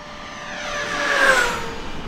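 A radio-controlled P-51D Mustang model plane sweeps past in a smooth flyby, its engine hum rising to a loud, sharp prop buzz midway, then fading as it pulls away.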